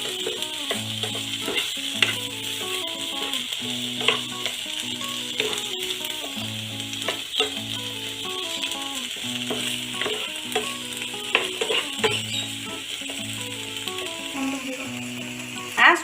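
Vegetables sautéing for white sauce pasta in a pan over a low to medium flame, a steady close sizzle and fry with repeated stirring scrapes and light rattles, background music running under it.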